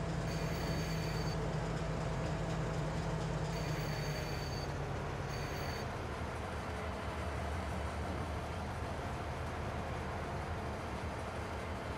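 In Farming Simulator 22, a train sits at a coal train silo on the Rouge River Valley map, giving a steady rumbling rail drone with faint high squealing tones that cut in and out, and no talk over it.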